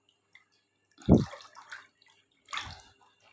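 Sugar water dissolved earlier is poured into a mixture and stirred, giving two short splashing pours with trickling and sloshing between them, close by in an otherwise quiet space.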